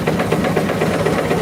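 An old farm engine runs steadily while pumping out material at a threshing event, a close, even rhythmic chugging with a faint knock and no voices.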